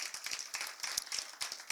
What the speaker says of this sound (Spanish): Vamos a dar un fuerte aplauso para arrancar así con fuerza.